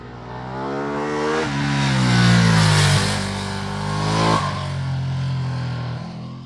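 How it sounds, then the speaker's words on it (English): A 2022 Ducati Streetfighter V2's Superquadro V-twin engine with Desmo valve train idles with a deep, loping rumble, then revs up twice with rising pitch before settling back to a steady idle. "When the Super Quattro V2 with Ducati's typical Desmo valve train is brought to life"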